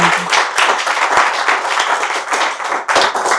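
Dense audience applause fills a hall during a Gujarati literary talk, steady clapping from many hands sustained throughout with a brief dip near the end.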